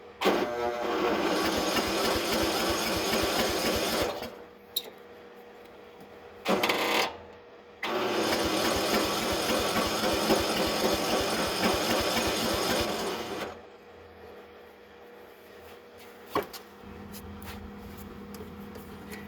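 Briggs & Stratton small engine on a Nikki carburetor with no fuel solenoid, cranked in loud sustained bursts with brief pauses between them, then a quieter stretch near the end.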